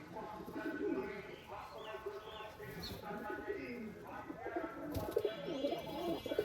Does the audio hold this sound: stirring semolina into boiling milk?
no